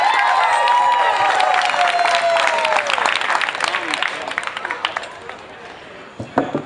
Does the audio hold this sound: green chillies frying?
no